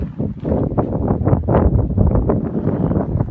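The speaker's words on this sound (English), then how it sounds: "Starting to get windy again." Gusty wind buffeting the microphone outdoors at a cold hillside tent camp at night, a continuous low rumbling roar with surging gusts, close and loud, with no talking.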